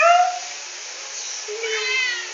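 A pet cat gives a couple of short meows, one at the start and another rising call near the end, close and fairly clear in a quiet room.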